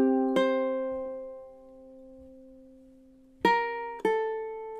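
A ukulele plays measure 2 of a song: one plucked note rings and fades slowly, then after a pause two more notes follow in quick succession, soft and close with nothing else heard.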